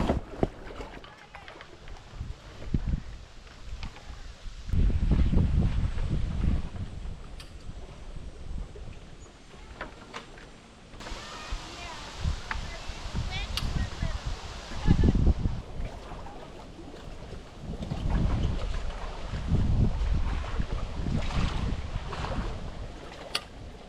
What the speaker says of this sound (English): I can feel a pretty strong wind coming from the side